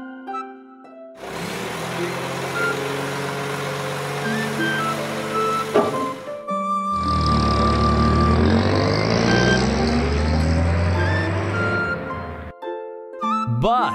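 Cartoon garbage truck in reverse, a long run of steady electronic tones over engine hum, two sustained stretches divided by a short break.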